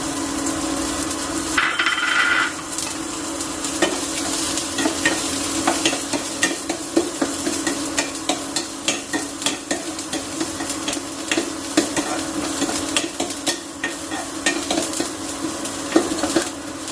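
Chopped onions fry in ghee in a pan with a continuous close sizzle, broken by frequent scraping and clinking of a spoon stirring against the pan.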